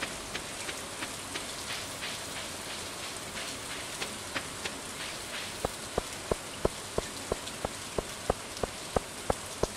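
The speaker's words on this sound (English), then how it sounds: "I've never heard it rain. I've never heard it like this." Heavy rain pours steadily in the Stardew Valley farming game, a dense constant hiss with sharp drip-like ticks that grow regular and louder toward the end, no voices.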